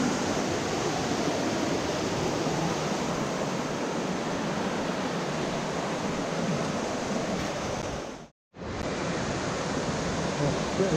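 A river rushes loudly and steadily beside a walking path, a continuous broadband roar of fast white water that holds throughout apart from one brief dropout near the end.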